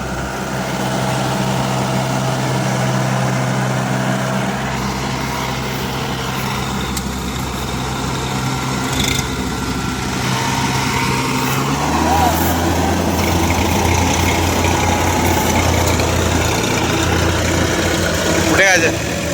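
A Swaraj 744 FE 4WD tractor stuck in deep mud runs its engine steadily, a low continuous drone with a shift in pitch partway through as the wheels slip, while people talk nearby.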